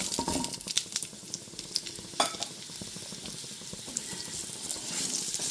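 Washed, cut potato pieces hit hot spice tempering in a pan, a bright crackling sizzle with clattering knocks as the pieces land and get stirred, then a steadier fizz settling, close and without talk.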